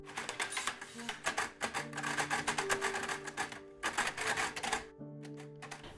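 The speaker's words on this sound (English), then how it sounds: "She has this braille machine." Braille writing machine typing, a rapid run of sharp mechanical clacks in irregular bursts with brief pauses, close and fairly loud, with tonal background sound underneath.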